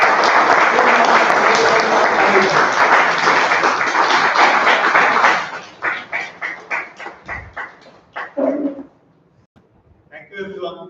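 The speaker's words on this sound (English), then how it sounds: "can we have a huge round of applause" A meeting audience breaks into a loud, dense round of applause that runs steadily for about five seconds, then thins into scattered separate claps before fading out and returning in a brief closing burst.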